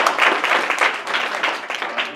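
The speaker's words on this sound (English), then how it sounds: "Give yourselves a round of applause." An audience at a university distinguished alumni awards ceremony claps in a dense, fairly loud burst of applause with uneven peaks, heard on its own without talk.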